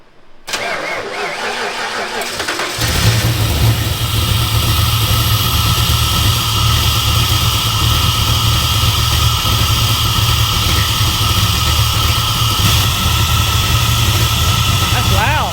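A Ford 302 V8 in a 1957 Fairlane starts for the first time: after a brief cranking, it catches and settles into a loud, steady, rumbling idle that runs close by for the rest of the clip.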